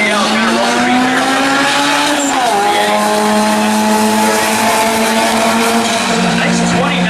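Hatchback car launching hard at a drag strip, engine note climbing through gears with a shift around two seconds, loud and close, tires squealing, an announcer talking over it.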